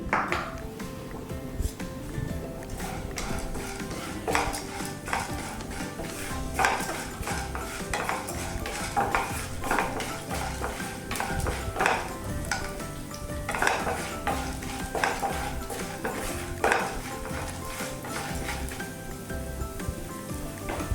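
Chana dal, urad dal and cumin fry in hot coconut oil in a pan, a steady close sizzle broken by repeated clinks and scrapes of a utensil against the pan throughout.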